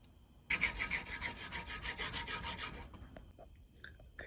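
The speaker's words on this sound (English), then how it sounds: "So we'll need to file down about 1 millimeter." A metal file rasps against a Tascam TSR-8 reel bushing in quick repeated strokes for about two and a half seconds, close and fairly loud, then stops and leaves a quiet room with a few faint knocks.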